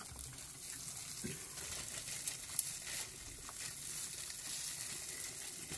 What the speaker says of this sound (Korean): 삼겹살 굽기에 달인이야?